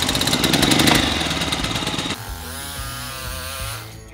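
A small engine rattles and buzzes loudly at first, then drops to a slower, uneven idle putter.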